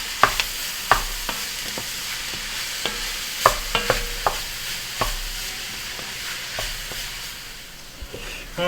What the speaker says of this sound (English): our mushroom and carrot, onion, celery base has really started to cook down.